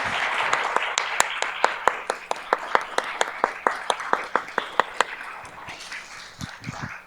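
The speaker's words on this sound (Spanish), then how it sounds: "quisiera pues pedir un aplauso para los panelistas" Audience applause for the panelists at a conference session, led by sharp, close hand claps at a brisk, steady beat over a softer clapping bed, thinning out and fading after about five seconds.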